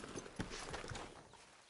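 Soft, distant hooves clip-clop a few times as a horse walks in Red Dead Redemption 2, near Arthur at the camp. The hoofbeats are faint and uneven over a quiet background.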